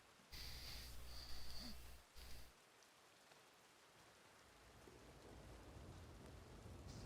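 Steady rain falling in a Red Dead Online outdoor scene with an open cooking fire, a soft continuous hiss with a brief louder burst of other game sound near the start.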